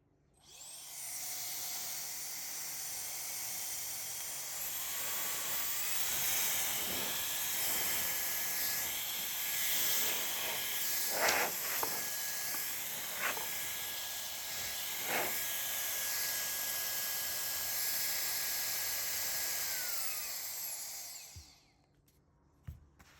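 A Truwelby compressed air duster with a 130,000 RPM brushless motor blows a steady, loud, high-pitched whine with hiss for about twenty seconds, pitch wavering slightly, then cuts off near the end.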